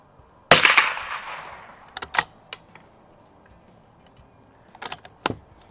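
One loud crack from an H&R M12 rifle shooting Federal ammunition opens the sequence with a fading echo, then a few crisp mechanical clicks and light handling sounds follow.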